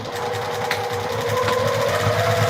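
A sewing machine stitches close to a D-ring, a loud, steady mechanical whir with a fast needle rattle running the whole time, close by and without talk.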